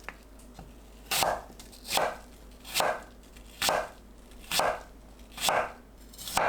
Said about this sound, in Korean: 사과를 채 썰어주세요.